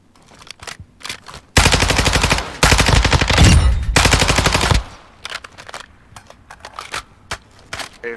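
Lockman rifle with a 50-round magazine in Call of Duty: two loud, rapid automatic bursts, the second longer, surrounded by scattered clicks and small in-game sounds.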